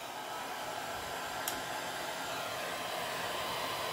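A heat tool blows a steady, airy whoosh to dry alcohol ink, an even, fairly quiet rush of air held throughout with a tiny click near the middle, with no talking.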